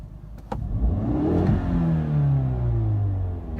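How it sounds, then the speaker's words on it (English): 2019 Hyundai Veloster N engine revving in normal mode, a single rise in pitch after a short blip that holds and slowly falls away, steady and close with no talk. "it revs like a normal vehicle"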